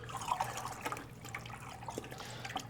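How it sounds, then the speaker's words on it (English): Water poured into terra sigillata and stirred by hand for pottery, giving soft close trickles, drips and small splashy sloshes over a low steady hum, with no talking. "I'll just take a little water, add that to the Sig, put my Sig back, give it a stir"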